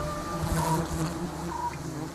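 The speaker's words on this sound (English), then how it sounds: "These giant stinging honeybees have been known to attack anything that's perceived as dangerous to their queen." A swarm of giant stinging honeybees near a rock summit makes a dense, steady droning buzz with wavering pitches from many insects, close and unbroken without speech.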